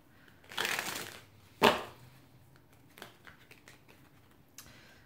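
Tarot cards being shuffled close by, two bursts of riffling and bridging followed by lighter taps and slides of the deck, in a quiet room.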